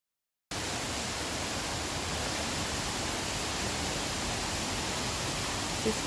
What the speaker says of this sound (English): We got a couple waterfalls in here as well.